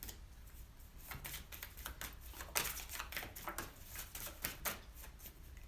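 Tarot cards shuffled by hand in a steady run of crisp, papery riffles and slaps, close up and fairly loud with no talking.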